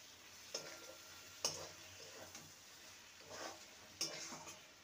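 A spoon stirs chopped ridge gourd, with coriander leaves added, in a pan for chichinga vapa, giving a handful of scraping strokes over a quiet, faint sizzle with pauses between them.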